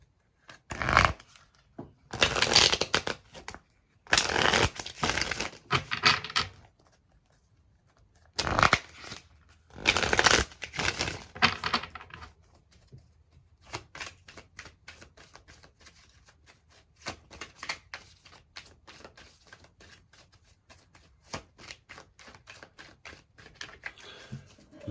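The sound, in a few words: tarot cards being shuffled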